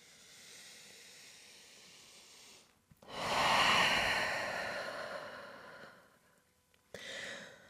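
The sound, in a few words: deep breathing during yoga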